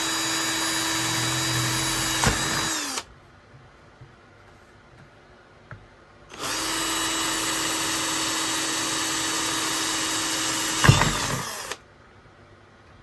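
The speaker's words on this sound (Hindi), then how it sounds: "ये देखिए, देख सकते हैं बहुत अच्छी तरीके से यहाँ पे जो है ड्रिल मशीन से आपका होल हो जाएगा" An Izom cordless drill bores a hole into a table, its motor whining loudly in two long bursts of about three and five seconds, with a quiet pause between and a brief thump near the end of each run.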